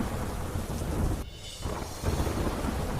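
Heavy monsoon rain pours steadily with rumbling thunder in Porbandar, Gujarat, a dense continuous wash of noise that briefly thins before swelling again.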